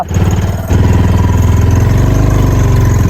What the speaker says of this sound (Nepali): ल बाइक स्टार्ट गरेर अब म चाहिँ लाग्न लागेँ